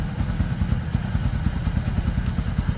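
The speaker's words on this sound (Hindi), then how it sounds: "तो बाइक हमारी स्टार्ट हो चुकी है और अब हम साउंड भी सुनाने वाले हैं।" A Hero Splendor Plus motorcycle engine runs after a full service. It gives a close, loud, steady low putter with an even rapid thump, and no talking is heard.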